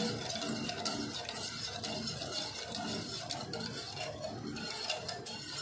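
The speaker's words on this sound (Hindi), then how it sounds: "अब इसको चलाते हुए इसको मिक्स करते जाएंगे" A spoon scrapes and churns falooda mixture in a pot on a lit stove, with continuous soft rasping strokes in a steady rhythm, faint and close.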